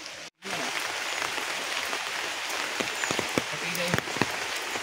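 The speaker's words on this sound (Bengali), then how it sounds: "কেমন বৃষ্টি হচ্ছে দেখুন, এত বৃষ্টি যে ঘর থেকেও বেরোনো যাচ্ছে না।" Heavy downpour beats steadily on surfaces as a dense, continuous hiss with scattered sharper drop taps, moderately loud and enveloping throughout.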